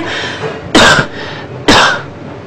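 Two sharp coughs about a second apart, close and fairly loud, over a low indoor background hum.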